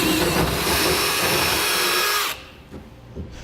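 Power drill boring through a Ram truck bed surface and the hat channel beneath while fitting a Curt fifth wheel kit: a loud, close whine for about two seconds that stops abruptly, followed by a few quiet knocks.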